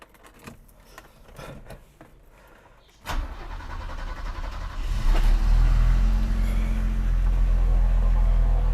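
A Mitsubishi Pajero starts up: a few faint clicks and rustles come first, then the starter cranks and the engine catches, settling into a loud, steady idle rumble close by.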